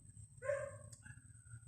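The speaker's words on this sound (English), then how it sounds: "That dog's always barking." A dog barks and whines once at mid distance in a busy food court, a short harmonic yelp rising over steady low crowd murmur, followed by a fainter trailing whimper.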